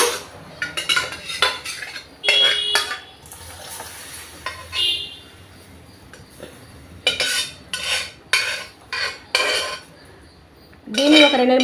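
Cooked dal is mashed with a metal spoon and tipped into a pot for Telugu pullapappu, with repeated clinks and scrapes of cutlery against steel vessels in irregular bursts, close and fairly loud.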